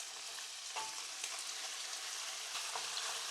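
Small pieces of chicken frying in a wok, giving a steady, dense sizzle with faint stirring scrapes throughout, close and continuous.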